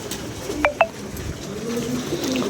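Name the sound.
pigeons cooing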